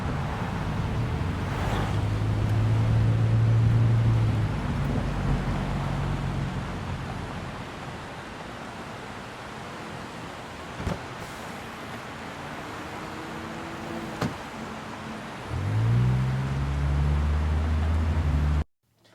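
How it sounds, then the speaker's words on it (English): A car motor fades in over a rainy city backdrop, a low engine hum swelling and then stopping, before a second engine rumble starts up near the end; no one speaks. "You just kind of need to hear the motor of the car coming in, fading into the scene and then stopping when the actual car stops"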